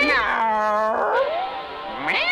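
A cartoon dog imitates a cat, giving a drawn-out, wavering meow in a harmonic voice, followed by a shorter rising cry at the end, heard up close and fairly loud in a French-dubbed Garfield cartoon.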